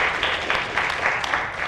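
Audience at a 2010 Ohio 4th congressional district candidate debate applauding a Libertarian Party candidate's introduction, steady dense clapping from a room full of people, fairly even throughout with no talking over it.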